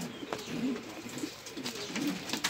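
Pigeons in a loft coo softly and repeatedly in low, rolling phrases, fairly faint against a quiet background hiss with a few light clicks and rustles.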